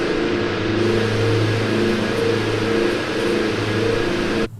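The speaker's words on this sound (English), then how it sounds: "Listen to those engines screaming, man. This plane's loud." Twin diesel engines of a Diamond DA42-TDI aircraft drone steadily in flight at 6,000 feet, a loud, continuous close-up cabin roar with a sustained tonal hum and no talking.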